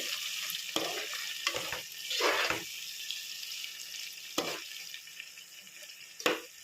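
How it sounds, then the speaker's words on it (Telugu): Chopped tomatoes for chicken curry sizzling in a pan, a soft steady frying hiss broken by several louder scraping or stirring bursts at irregular moments, quiet overall with no voice. "టమాటాలు అనేది మగ్గుతున్నాయండి"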